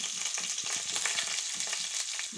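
Onions frying in butter in a kadai for pav bhaji, a steady close sizzle with crackling pops and occasional stirring scrapes throughout, no voices.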